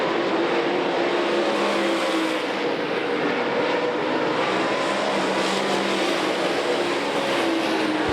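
Late model dirt race cars roaring around a track at the 2008 Lucas Oil Late Model Nationals, a loud, steady wall of engine noise holding throughout with no break and no audible talk.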